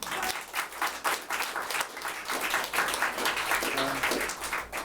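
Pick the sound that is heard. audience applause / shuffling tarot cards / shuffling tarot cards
audience applause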